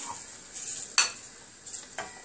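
Soft, faint sizzling of butter melting in a pot, broken by a few brief scraping stirs of a utensil.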